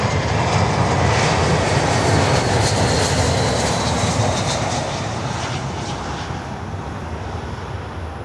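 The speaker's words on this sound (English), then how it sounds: "We have also Maersk Air Cargo coming in, the 767-300, number 3, coming in from Anchorage." A Maersk Air Cargo Boeing 767-300 cargo jet comes in to land, a loud sustained broadband engine roar that holds steady and then slowly fades as the aircraft passes.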